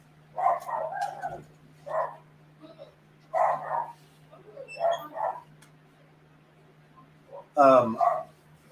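A dog barks repeatedly indoors at home, sharp bursts in clusters with pauses between them and a louder final yelp, heard fairly close over a steady low background hum.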